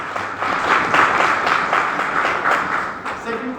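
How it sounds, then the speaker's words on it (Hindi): An audience at a Hindi-language talk gives a few seconds of steady, fairly loud group clapping, with voices mixed in. "Very good, Tali बजाइए ma'am."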